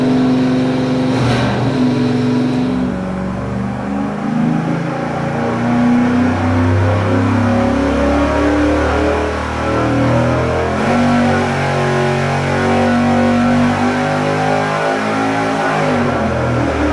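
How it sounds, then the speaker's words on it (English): A stock 305 V8 rated at 350 horsepower runs on a dyno with a 150-horsepower nitrous shot: a loud, continuous roar whose pitch swells and settles as the revs change, with no voices. "We got it fired up, bottle's open, 150 horsepower, ready to go."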